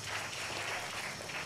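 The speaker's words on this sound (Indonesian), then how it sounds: "Oke, tepuk tangan dulu dong buat Bang Acok." Steady applause from an audience at an artists' discussion forum, a brief burst of many hands clapping together, fairly loud and continuous.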